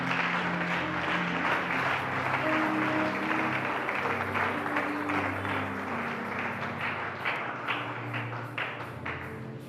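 A church congregation applauds in praise of the Lord, with dense, steady clapping from many hands that carries on throughout and eases slightly toward the end, backed by a low sustained musical hum.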